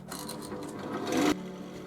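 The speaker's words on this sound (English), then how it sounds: "Just going to use the 1/4 inch skew to clean that up." A 1/4 inch skew chisel cleaning up the edge of a resin piece spinning on a lathe, heard as a steady close scraping hiss for just over a second that stops abruptly.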